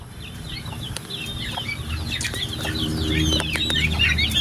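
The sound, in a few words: turkeys in a pen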